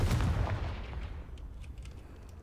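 A Confringo blasting spell going off in Hogwarts Legacy, a loud booming explosion with a heavy low rumble that decays into a fading crackling tail.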